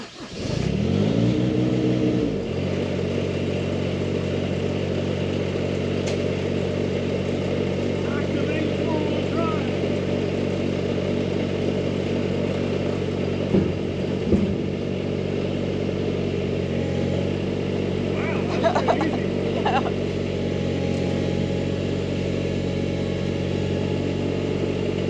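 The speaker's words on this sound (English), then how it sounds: "So now I'll see if I can push with the tractor or if we need a little bit more horsepower" Small 19 hp Mahindra tractor engine starting and then running steadily under load while pushing a shipping container, a constant close droning rumble with brief revs and clanks, over a muttering voice.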